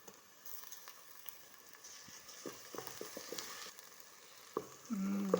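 A ground paste of ginger, garlic, chilli, cloves and cardamom hits hot oil in a pan for a bitter gourd and tomato curry, giving a soft steady sizzle with scattered crackles and a louder burst of spitting at the end.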